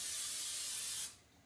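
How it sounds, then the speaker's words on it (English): Chicken pieces sizzle in hot oil in a pan, a loud, steady hiss up close that drops away sharply after about a second. "See, we got some sizzle, so it's a good heat."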